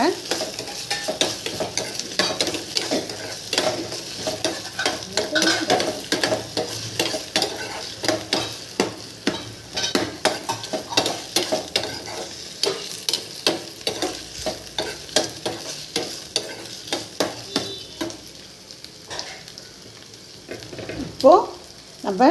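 Ripe tomatoes sizzle and fry in a pan while being stirred, with steady scraping strokes over a continuous hiss, close and moderately loud.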